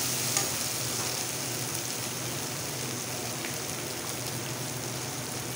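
Asafoetida tossed into hot oil for a chana dal tadka, with a steady broadband sizzle of frying and light stirring scrapes continuing evenly throughout, no voices.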